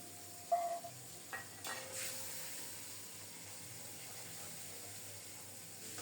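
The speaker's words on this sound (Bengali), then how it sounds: "মশলাটাকে লাল লাল করে কষিয়ে নেব। ধনিয়া, জিরা, আদা।" A spice paste of ground coriander, cumin and ginger frying in a pan, a soft steady sizzle and hiss with a few scraping stirs and a brief metallic ring near the start, quiet and without voices.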